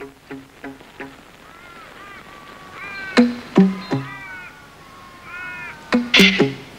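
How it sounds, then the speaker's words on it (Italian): A feral cat in the Australian desert meows repeatedly in drawn-out, rising cries over a steady outdoor background, with sharper, louder calls toward the end. "L'incendio ha stanato la preda più ambita, un gatto selvatico che Dominique insegue freneticamente"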